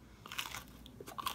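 Someone bites into a darker, slightly burnt pizza bagel close to the mic, making several crisp crunches followed by chewing, with no talking.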